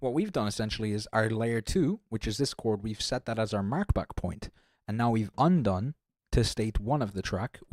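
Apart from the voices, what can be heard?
No everyday noise stands out behind the speech.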